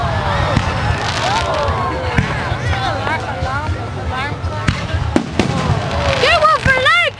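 Fireworks show in a park, with sharp pops and crackles scattered throughout and whistling rockets rising near the end, while a crowd nearby talks and cheers.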